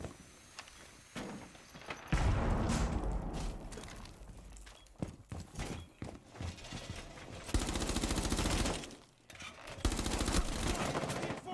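Gunfire in the Rainbow 6 Siege shooter game, with bursts of rapid automatic shots and single cracks scattered among footsteps and game noise, sometimes loud and sometimes quieter.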